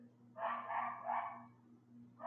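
A dog barks a couple of times in a quick run, moderately faint and distant over a constant electrical hum, from outdoors during a live poker talk stream in Costa Rica, with no talking.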